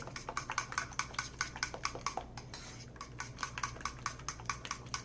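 A whisk beats a sweet mixture for pumpkin French toast in a bowl, rapid regular clinks of metal against the bowl sides, close and fairly quiet, with no talking.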